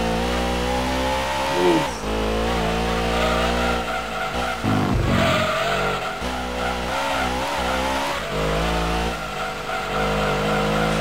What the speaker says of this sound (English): This engine can power this freaking top up that hill like that.